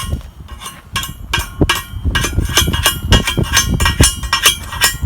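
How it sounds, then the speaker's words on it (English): Rapid, uneven claw hammer strikes chipping slag off a pipe, a dense series of sharp metallic clinks and knocks close by with no voices. "A claw hammer works pretty good for this."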